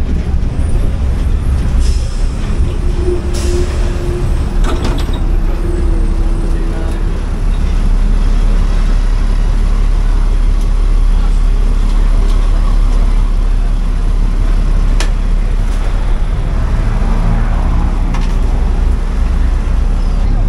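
Steady engine rumble and road noise inside a crowded city bus in Mexico, with faint air-brake hisses and clatter throughout, loud and continuous.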